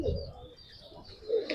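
Kalsira pigeons coo softly nearby in two short, low, throaty calls separated by a quiet pause.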